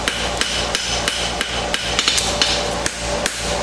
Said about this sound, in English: Use the round side of my hammer and get my frog plate all welded up again.